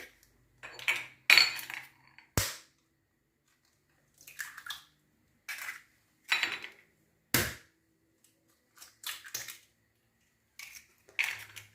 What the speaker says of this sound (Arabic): نحرك البيض والسكر تيتخلطوا مزيان